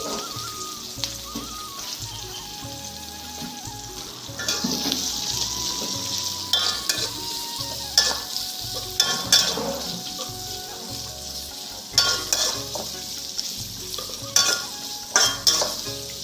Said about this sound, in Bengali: এখন এই তেলের ভিতরে পেঁয়াজ দিয়ে দিব। পেঁয়াজগুলোকে যতক্ষণ লাল না হওয়া পর্যন্ত পেঁয়াজগুলোকে ভেজে নিব।